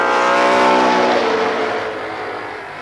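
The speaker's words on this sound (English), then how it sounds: "The NASCAR Winston Racing Series Trophy Dash for the late models." Late model stock cars roar past at Columbus Motor Speedway in a NASCAR Winston Racing Series trophy dash, a loud close engine drone that swells and then fades as the pack moves away.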